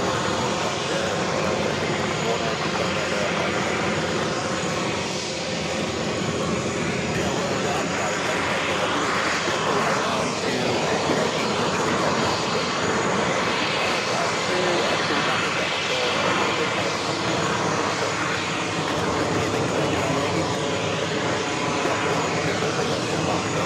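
Airliners at New York's JFK airport, including a Delta A330-300 lining up for takeoff, give a loud, continuous engine roar and rushing drone throughout, with a voice talking over it.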